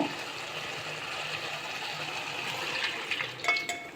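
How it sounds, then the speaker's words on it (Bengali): Water poured into a cooked tomato and spice mixture in a pan, a steady soft rush of liquid that swells near the end with a few splashy bursts. "এবারে এখানে আমি ওই জলটা আরও দিয়ে দেব"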